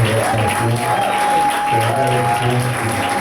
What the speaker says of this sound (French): Nous acclamons l'homme de Dieu. On acclame son nom.